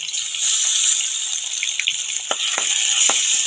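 Onion and garlic paste frying in hot oil, a bright, continuous close sizzle with a few sharp crackles and pops near the end.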